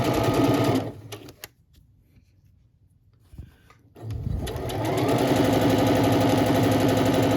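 A sewing machine stitches a cloth napkin, running loud and steady, then stopping for a pause with a few small clicks while the fabric is pivoted, then humming rapidly again.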